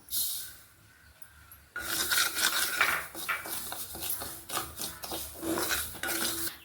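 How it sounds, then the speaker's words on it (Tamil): Grains such as ragi, sorghum and rice dry-roasting in a pan on a slow flame, a continuous close rasping, rubbing stir with grainy scraping textures that starts after a quieter moment and carries on steadily. "ஸ்லோ ஃப்ளேமில் வச்சு எல்லாத்தையும் வறுத்துக்கணும்"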